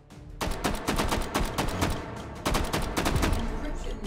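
Rapid bursts of gunfire from the VR shooting game Hot Dogs, Horseshoes & Hand Grenades crack out in two dense, loud volleys separated by a brief lull.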